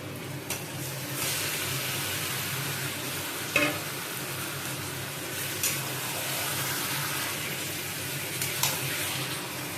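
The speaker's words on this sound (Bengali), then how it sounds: "এবার আমি এর মধ্যে মাংসটা দিয়ে দিচ্ছি" Steady loud sizzling and frying as marinated meat is added to a hot pan of fried onions, with occasional stirring scrapes and clatters over a continuous hiss.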